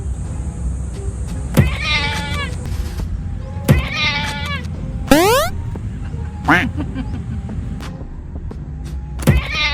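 A cat meows several times, rising and falling cries spaced a couple of seconds apart, close by over a steady background hum.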